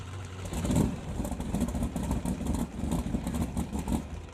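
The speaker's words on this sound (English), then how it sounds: "Sounds like Eric's car refired momentarily." The engine of a 1968 Pontiac Firebird drag car with a 526 big block Chevrolet, refiring: a rough, pulsing mechanical rumble with throbbing beats that holds steady for a few seconds at close range.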